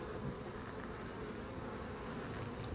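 Honey bees buzz steadily in an opened hive that holds lots of bees and little brood, a dense continuous hum that stays close and even throughout.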